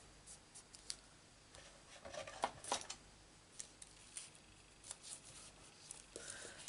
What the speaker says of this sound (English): And then I have got to cut off any overhang